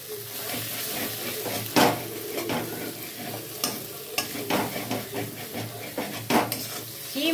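Onion and garlic frying in oil, stirred with a utensil: a steady close sizzle broken by repeated scraping and clanking strokes against the pan.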